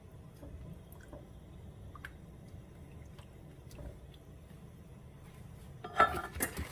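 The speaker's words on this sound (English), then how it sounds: "So you just keep stirring" A spoon stirs a thickening sauce in a pot, giving faint scattered clinks and soft scrapes in a quiet kitchen, with a brief louder clatter near the end.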